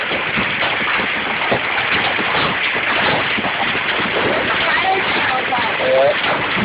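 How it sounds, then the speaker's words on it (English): Hail pelts down in a dense, continuous, loud patter, like heavy rain drumming on surfaces close by, while voices talk underneath. "I've never seen a hailstorm like this."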